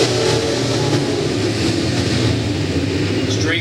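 B-Mod dirt-track race cars at a USRA Ironman A-main roar back up to speed after a restart, a dense continuous engine drone filling the track with no break, loud and steady throughout.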